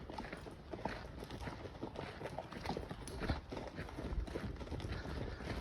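Horses walk up a hot, dusty road toward a ranch, their hooves clopping in a steady uneven rhythm close by, with wind noise throughout.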